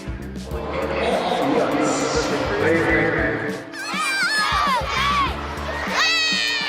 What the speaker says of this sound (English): The crowd is buzzing today.